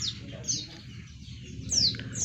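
A few high, thin chirps from a caged untulan bird, sparse and spaced apart over a low background hum, fairly close.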